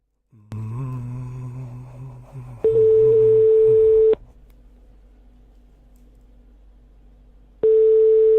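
Telephone call audio: dial and call-progress tones, with low tonal sounds at first, then a steady loud beep from about 2.6 to 4.1 s. A quiet line hum follows, and the loud tone returns near 7.6 s.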